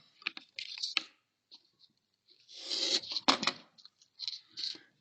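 Scissors trimming excess material on a quarter-scale stair stringer, a few close, crisp snipping and cutting crunches in separate short bursts with quiet gaps between.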